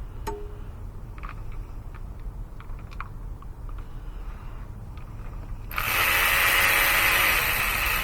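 A ratchet with a universal swivel socket works on the 1.4-litre four-cylinder engine of a 2014 Chevy Cruze, heard as faint, scattered metallic clicks before a sudden loud, steady rushing noise takes over the last seconds.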